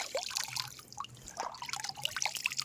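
Water trickles and drips steadily from a rock spring at a temple, a close, continuous patter of small splashes and drops with no talking.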